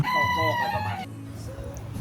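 A Silkie rooster crows once loudly and close, a long wavering call, followed by quieter clucking in the background, in a garden café.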